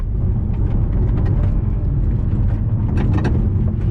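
A 2019 Mini Countryman S Hybrid with petrol front and electric rear four-wheel drive launches hard with traction control off, giving a loud, continuous engine roar close up with faint mechanical rattles.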